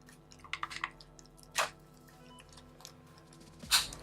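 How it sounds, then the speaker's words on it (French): Plastic parts of a vintage Nerf blaster snap together in a few small sharp clicks and taps, quiet and close, with one louder snap near the end and no talking. "Ah voilà, j'ai entendu le clic."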